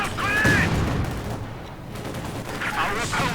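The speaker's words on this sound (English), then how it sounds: "Well placed mortar, in fact." Booming mortar and gun fire in a Company of Heroes 2 1v1 match, several loud blasts and rattling shots in a dense battle mix, with a commentator speaking over it.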